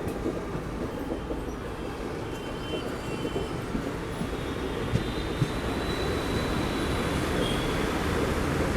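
The Tungabhadra Express, an ICF-coach train from Kacheguda to Kurnool City, rumbles along steadily near Malakpet. Wheels thud faintly on the track under a constant loud roar heard from inside.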